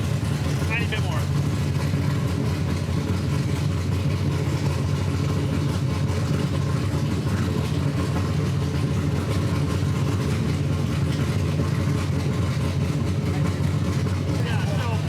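Drift car engine running close by with a steady, rumbling idle that holds throughout, loud and continuous, with muffled voices underneath.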